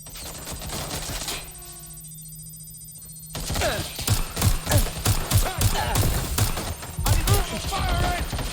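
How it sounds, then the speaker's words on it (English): Rapid gunfire bursts in the video game Watch Dogs Legion, repeated loud shots in quick succession mixed with game music and effects after a quieter opening stretch. "Shots fired!"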